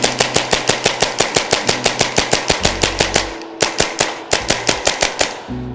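An air gun fires rapid semi-automatic bursts into drywall, giving loud, evenly spaced sharp cracks with brief pauses between volleys.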